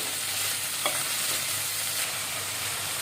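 Green beans with salt and turmeric stir-frying in a pan, giving a continuous even sizzle with occasional soft scrapes of stirring, steady and close, with no voices.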